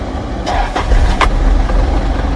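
A cabover diesel ramp truck's engine idling with a loud, steady low rumble, a few short clatters and knocks rising over it near the start.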